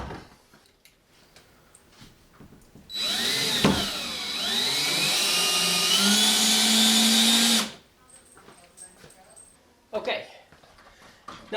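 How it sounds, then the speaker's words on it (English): A power drill drives screws into wall anchors while mounting a simple picture or book rail, a steady whirring run of about five seconds, close and loud, with someone talking before and after. "So, okay, now put the screws in."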